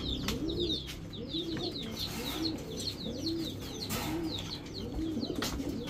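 Several Giribaz pigeons, high-flyer birds kept in pairs, coo repeatedly in a soft rhythmic series, with higher chirps mixed in and faint background rustling nearby.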